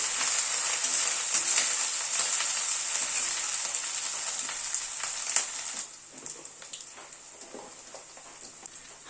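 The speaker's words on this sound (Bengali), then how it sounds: "সেটাকে দিয়ে একটুখানি পেঁয়াজের সাথে একটু নাড়াচাড়া করে নিচ্ছি।" Garlic and green chili paste fries with onions in a pan for a thin mutton curry, giving a dense, bright sizzle close by, with scattered scraping taps from stirring; the hiss eases and thins near the end.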